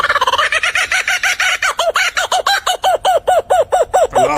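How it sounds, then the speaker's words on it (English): An Australian kookaburra's laughing call, a loud, close run of rapid repeated cackling hoots that speed up and rise into a rhythmic chatter, heard alone. "Yeah, Australian birds,"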